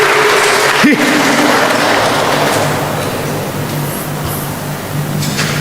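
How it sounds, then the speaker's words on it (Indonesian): Congregation applause during a church sermon, a loud broad wash of clapping mixed with low hum and a brief voice, fading slightly as it goes on. "Tepuk tangan dulu dong, tepuk tangan."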